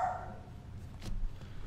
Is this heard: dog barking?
yes